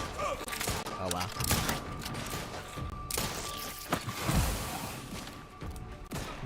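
Grenade blasts and gunfire erupt in a combat scene from The Outer Worlds 2, with several sharp thumps and crashes amid a busy, mid-distance mix of battle noise.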